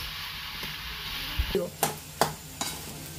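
A spoon scrapes and stirs bread pakoda stuffing mixture in a pan over a steady background sizzle, giving several distinct scraping strokes in the later half, close up with no speech.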